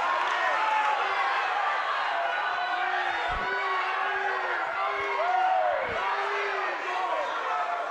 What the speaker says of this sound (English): Crowd are really trying to get behind their fighter.